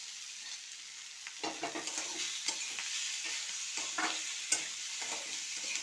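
Potatoes fry with turmeric, spices and chopped chilli, giving a steady broadband sizzle broken by repeated scraping stirs that come close and fairly quiet.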